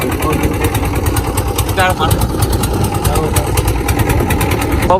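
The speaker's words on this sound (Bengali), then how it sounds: "আমাদের নৌকাটা ছেড়ে যাচ্ছে ব্রহ্মপুত্র নদীর উপর দিয়ে," Motor boat engine running steadily on the Brahmaputra river, a continuous loud droning rumble throughout, with voices and crowd chatter mixed in over it.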